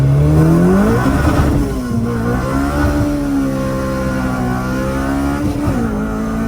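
A Honda EK Civic with a K20A2 engine revving hard on a dyno, loud and close, its pitch climbing then holding at a sustained high drone with small dips.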